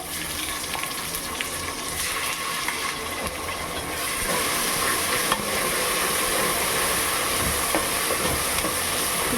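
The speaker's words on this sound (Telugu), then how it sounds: "ఇప్పుడు దీంట్లో అల్లం వెల్లుల్లి పేస్ట్ పెడతాం ఆనియన్ బాగా ఫ్రై అయింది" Ginger garlic paste hitting well-fried onions in a pot for a chicken curry and pulao, producing a steady hissing sizzle that swells louder partway through, with faint stirring underneath and no speech.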